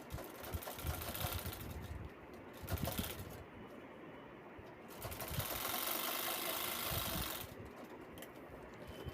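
A domestic sewing machine stitches the corners of a homemade fabric tiffin (lunch box) bag, its motor running in steady mid-level bursts that pause and restart, with no talk over it.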